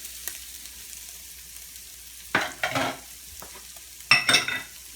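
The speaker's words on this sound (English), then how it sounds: "So I add my sugar just so it can caramelize just a bit more. Give that a nice stir." Sugar gets stirred into baked beans in a big pan, with a quiet simmering background broken by two loud bursts of scraping and sizzling from the spoon close up.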